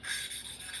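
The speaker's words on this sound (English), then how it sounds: "you should be able to hear that there we go, that coarseness getting finer and finer as that paste" Valve lapping on a Honda CT110 engine head: grinding paste rasps under a rotating valve in a short, soft, even scratchy rub with slight back-and-forth pulses.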